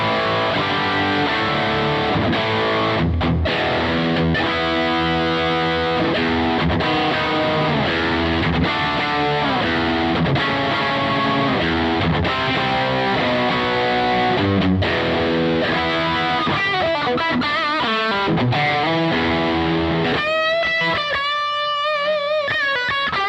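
Heavily distorted electric guitar through a Bogner Goldfinger 45 tube amplifier plays continuously and loudly, chords and notes ringing out thick and saturated, ending in a wavering feedback tone.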